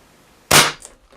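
Webley LiteW8 air rifle fires a single loud, sharp crack up close, decaying quickly, followed by a faint metallic tick.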